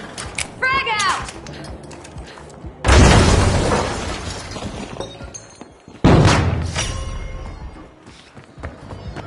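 A frag grenade in the video game The Finals goes off in two loud, close blasts a few seconds apart, each a sharp boom that decays slowly, with a brief whistling sound before the first.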